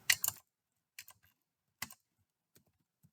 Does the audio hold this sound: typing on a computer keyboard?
yes